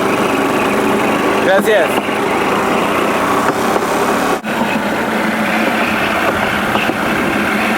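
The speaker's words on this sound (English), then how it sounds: "we are motoring along on a 125 motorbike with its front wheel bolted onto a piece of wood with a car rolling on it" Small 125 cc motorbike driving a wooden rail cart with its front wheel bolted on, riding train tracks to San Cipriano, Colombia; a close, steady buzzing engine drone, with a brief spoken word early on.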